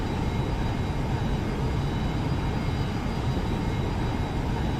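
A Boeing 737-800 jet takes off in the X-Plane 11 flight simulator, its engines giving a steady, loud, broadband roar with a faint high whine. The sound holds constant throughout, with no voices.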